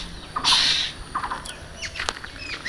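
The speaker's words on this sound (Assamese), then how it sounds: "চৰাই কান্দি আছে" A bird calls outdoors under open sky, with a few sharp chirps and a brief whistle-like cry over quiet ambient background.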